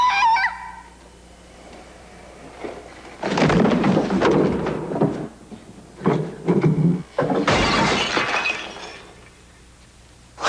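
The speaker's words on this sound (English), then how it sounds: "You smashed the Virgin Mary?" A statue of the Virgin Mary being smashed in a film scene gives loud crashing and breaking bursts, two main heavy impacts with crumbling debris between quieter stretches.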